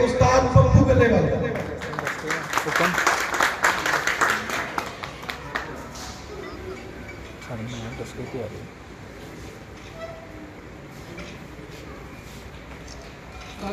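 Applause and clapping greet a senior ustad taking the stage at a master-disciple ceremony, loud at first and tapering off while a voice keeps talking over it.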